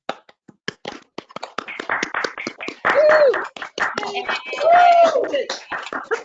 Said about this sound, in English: let's quickly unmute and give her a round of applause for that beautiful reading.